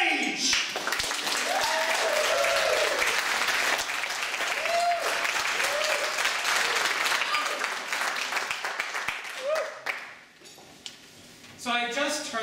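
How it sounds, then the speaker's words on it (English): Audience applause and cheering greet a comedian taking the stage at a comedy show, loud and sustained for about ten seconds, with whoops and voices rising over the clapping before it thins out and a few last claps return. "give a big round of applause for Mr. Rod Sage"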